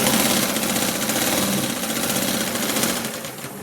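Sewing machine stitching the lining of a blouse, a steady, close mechanical whirr with rapid rhythmic needle chatter that slows slightly at the end.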